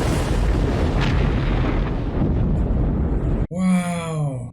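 A torpedo strikes a submarine in the 1990 film The Hunt for Red October, heard as a long, loud rumbling boom that cuts off sharply, followed by a deep groaning, wailing tone.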